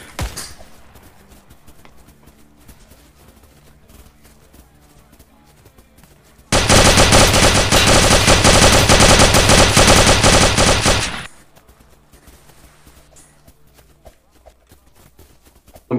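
During a Vietnam patrol, a sustained burst of machine-gun fire erupts after a quiet stretch, a loud, dense rattle of rapid shots lasting about five seconds before it stops suddenly and the quiet returns.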